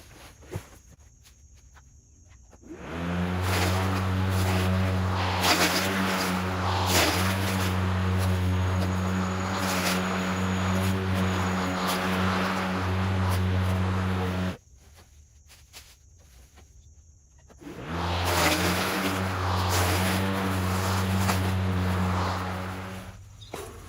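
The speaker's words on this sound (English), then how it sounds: "I run over them with the mower, chop them up real good." Lawn mower running over pulled garden greens and leaves, loud harmonic engine drone starting after a quiet moment, cutting out briefly, then returning, with rough chopping bursts over the steady hum.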